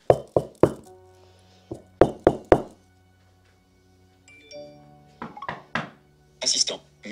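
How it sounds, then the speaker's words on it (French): Knuckles rap on a door in several sharp bursts of two or three knocks, close and distinct, with quiet pauses between and a faint electronic tone midway. "Je vais donc resimuler quelqu'un qui tape à la porte."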